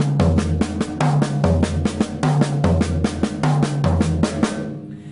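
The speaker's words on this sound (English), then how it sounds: "if I decide to work around the kit and travel from the mounted tom to the floor tom-tom, the sound would be this, high to low." A drummer plays a repeated eighth-note triplet fill travelling around the kit from the mounted tom down to the floor tom, a loud close series of pitched drum hits descending in pitch and ending with a brief ring.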